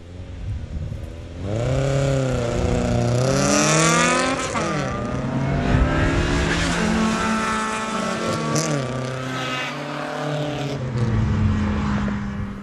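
A race car in a street drag race runs at full throttle, its engine loud and close, revving up with shifting pitch and holding a steady roar for the whole stretch with no talk.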